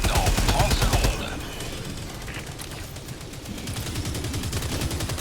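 Rapid gunfire in a two-player co-op shooter, Army of Two, with bursts of automatic shots firing in fast repeated volleys, loud at first then continuing steadily beneath a voice speaking.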